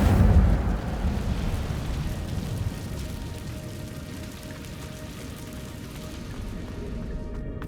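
An Incendio fire spell in Hogwarts Legacy opens with a loud fiery burst, then a roaring, crackling flame that slowly fades over several seconds, with no talk.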